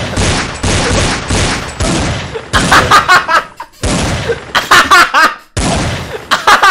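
Rapid bursts of staged gunfire crackle in a green screen war skit, several loud volleys separated by short pauses, with laughter and voices in between.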